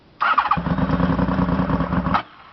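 A rebuilt Honda VFR750 motorcycle engine on choke cranks and catches, running roughly for about two seconds with a rapid uneven pulse close by before cutting out.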